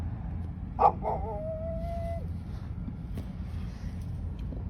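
A dog inside a parked car with heavily tinted windows gives one short, sharp yip, then a thin, drawn-out whine that fades after about a second, over a low, steady cabin rumble.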